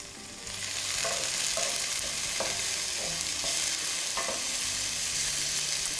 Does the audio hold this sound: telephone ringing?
no